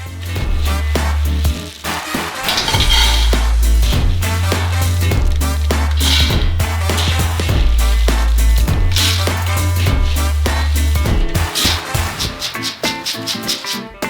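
A steady, loud rattling cascade of roasted peanuts pouring into a metal pot, with a low machine hum droning underneath throughout.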